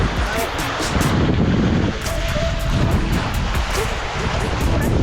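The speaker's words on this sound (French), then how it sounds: "Vous voyez les vagues, on regarde les grosses vagues." Big ocean waves surge and wash around a sailboat during a Pacific crossing, a loud continuous roar mixed with wind buffeting the microphone and occasional splashes.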